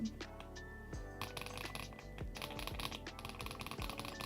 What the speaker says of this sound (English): Oh, I think I like the sounds more. It's like more clacky.